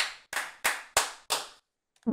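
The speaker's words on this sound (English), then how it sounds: "Round of applause." Five sharp, evenly spaced claps ring out close by, then a pause before a brief noise at the end.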